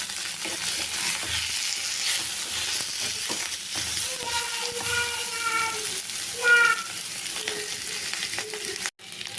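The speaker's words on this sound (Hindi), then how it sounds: "एबे इथरे मु आलू को पकेची हल्का भाजी देबी।" Potatoes frying lightly in a spoonful of hot oil in a kadai give a steady close sizzle throughout, with brief stirring and a few higher squeaky tones over it.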